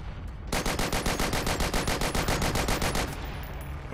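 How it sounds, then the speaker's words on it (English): Sustained automatic machine gun fire in the World War II shooter game Forgotten Hope 2, a rapid evenly spaced burst of about twenty loud shots lasting over two seconds, then fading into quieter background noise. "Suppressor fire on that machine gun?"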